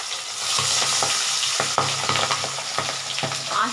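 Pabda fish fries in hot oil in a wok, a loud close sizzle broken by repeated soft knocks and scrapes from stirring, with no talk.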